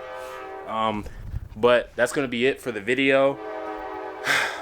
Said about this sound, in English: I'm sorry for the train.